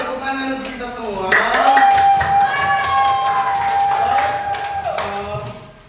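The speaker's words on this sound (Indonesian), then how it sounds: "tepuk tangan untuk kita semua" A school class claps together in a classroom lesson, a steady run of hand claps mixed with children's voices calling out in a drawn, sing-song chant throughout.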